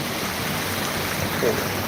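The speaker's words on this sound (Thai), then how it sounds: "น้ำไหลแรงมากครับ แบบแรงปุดปุดเลย" Strong water flows hard at a water park in Ang Thong, a steady close rushing noise with no clear pauses.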